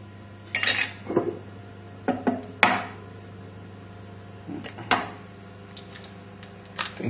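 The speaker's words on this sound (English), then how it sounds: "So I'm just putting the yolks in between the shells, just like this." Eggshells click and tap as yolks are passed back and forth between the halves during lemon curd soufflé prep, a scattered run of short, light clinks with quiet pauses between them.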